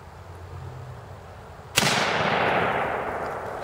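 A single sharp gunshot from an Adams Arms AR-15 rifle fired by a small woman at an outdoor range, a loud crack followed by a long fading echo over steady background noise.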